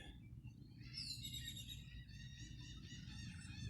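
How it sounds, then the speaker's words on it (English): Wild birds chirp and trill in quick, high, repeated calls close by, carrying over a steady low outdoor rumble with no talking. "Hope you don't mind all these crazy birds flying around."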